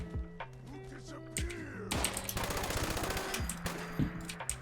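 A WWII MG42 light machine gun fires in Fallout 76, with rapid rattling bursts of automatic fire against game ambience and a sustained stretch of continuous shots in the middle.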